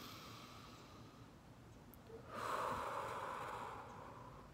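One slow, deep breath taken during a calm meditation, a soft airy rush that swells in the middle and fades. It is very quiet against a faint background hiss.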